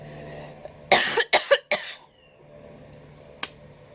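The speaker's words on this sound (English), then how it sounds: "I'm gonna cough." A man coughs in a garden workshop, likely from sawdust, giving three or four sharp close coughs in quick succession followed by a brief softer one after a pause.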